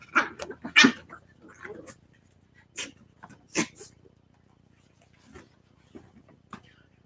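Havanese puppies play-fighting indoors, with short yips, snapping growls and brief barks scattered in irregular bursts, close by and fairly loud, separated by quiet pauses.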